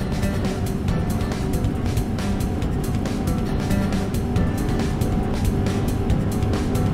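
Antonov An-225 jet engines roaring at full takeoff power in Microsoft Flight Simulator, a loud, steady broadband rumble that holds without a break as the huge aircraft begins its takeoff roll.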